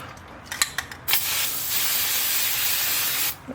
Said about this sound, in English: we're going to spray the cleaned off hub with some fluid film